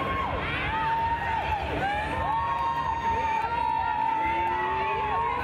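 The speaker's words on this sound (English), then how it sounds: "And the crowd goes wild." Crowd at a roller derby bout cheering and roaring loudly throughout, a dense, continuous wall of noise with shrill whistle-like calls, while an announcer talks over it.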